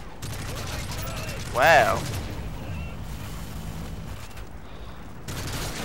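Low-recoil gun firing in Call of Duty: Modern Warfare 3 multiplayer, a steady stream of game gunfire under one brief spoken exclamation.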